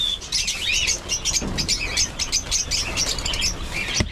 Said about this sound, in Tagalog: I-check po natin yung ating mga ibon dito mga kaprobinsya